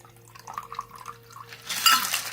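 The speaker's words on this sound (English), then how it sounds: "Pour your shaken cocktail into the glass," Shaken Suffering Bastard cocktail poured into a glass: soft clinks and ice rattles first, then a brighter splashing pour of liquid near the end, close and moderately quiet, with no talking.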